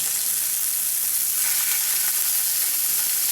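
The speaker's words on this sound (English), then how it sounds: "it might sizzle because there's still some water in it" Steady, bright hissing sizzle of SPAM frying in hot oil in a carbon steel pan, continuous and close, with no voices.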